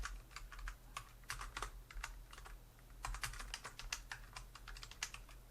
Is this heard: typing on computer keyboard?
yes